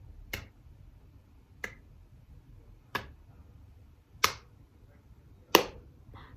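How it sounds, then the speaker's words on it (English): A slow clap: five sharp, evenly spaced claps about a second and a quarter apart, fairly quiet and close, with silence between them and no voices. "It's kind of disappointing slow clap"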